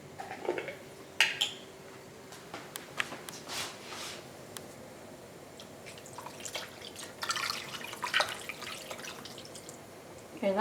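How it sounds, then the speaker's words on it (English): Water being poured into a pot of stuffed peppers in tomato sauce, heard as soft, faint splashing and dripping with scattered light clinks. No one speaks. "I'm gonna add more water because that needs to almost cover the peppers"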